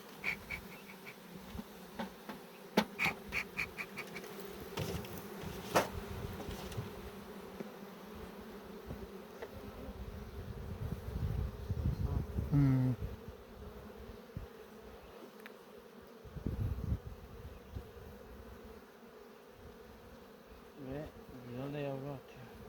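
Honeybees buzz around an open beehive during honey harvest, a faint continuous hum with individual bees droning close by, alongside occasional handling knocks and quiet talk.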